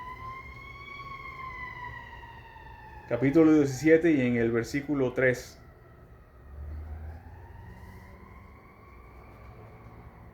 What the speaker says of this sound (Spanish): Creo que hay un fuego por allá afuera. Están las sirenas locas.